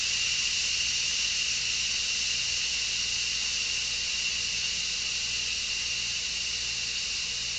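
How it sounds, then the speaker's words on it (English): An Instant Pot vents steam through its top release knob, a steady loud hiss that continues unbroken from start to finish with no talk. "We're turning the knob at the top to venting, not sealing. Letting it vent."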